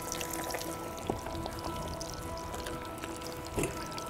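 Chicken pieces drop into hot oil in a wok over a bush cooking setup and fry with a steady crackling, bubbling sizzle, with a few sharper pops, moderately close and fairly quiet.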